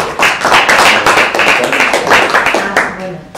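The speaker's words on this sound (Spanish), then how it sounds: "sobre todo aplaudirles a ellos porque es un trabajo genial" Audience applause at a Podemos youth gathering, a steady wash of clapping hands that swells and continues for several seconds with a few sharper claps standing out, fading slightly near the end.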